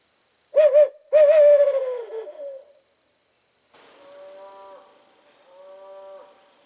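Cattle mooing on a farm at morning, heard from a porch: two loud, close, drawn-out moos, then after a pause two softer, more distant lowing calls.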